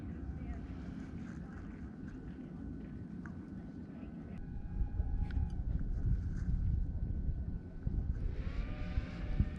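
A DJI FPV drone dives under throttle, its motor whine rising and falling amid steady wind rush from a moving microphone, growing louder in the second half with shifting high tones near the end.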